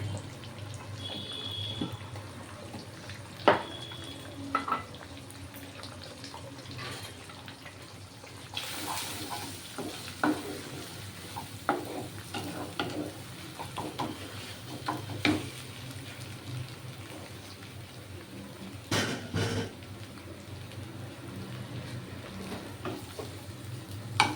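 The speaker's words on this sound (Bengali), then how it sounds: "এটা আমি সুন্দর করে ভেজে নিচ্ছি হ্যাঁ" Egg pasta fries in a pan with a low, steady sizzle, with occasional utensil scrapes and taps against the pan over roughly twenty seconds, heard fairly close and at moderate volume.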